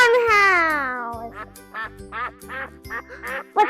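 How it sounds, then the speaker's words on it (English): A duck quacks in a farm setting, a string of nasal, raspy quacks in quick succession, loud and close, over a steady low musical backing. "sounds like a duck"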